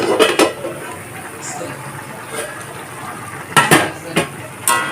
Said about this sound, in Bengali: বেশ খানিক্ষণ পরে থালাটা একবার খুলে দেখে নেব